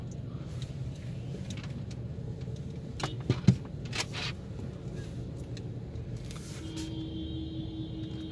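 Heavy road traffic at a signal in Clifton, Karachi, keeps up a low steady rumble of idling engines, with a few nearby clicks and knocks partway through and a thin tonal whine near the end.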